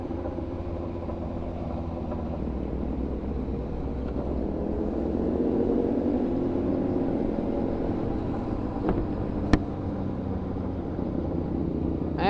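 New Kawasaki Ninja ZH2 supercharged motorcycle on a ride in Casigura, Aurora, a low engine rumble that swells slightly as it passes, with a couple of sharp clicks near the end.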